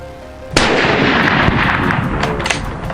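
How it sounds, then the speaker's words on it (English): A sudden loud gunshot cracks out, followed by rolling echoes and a couple of further sharp reports trailing off through open space. "Just a few gunshots echoed through the trees"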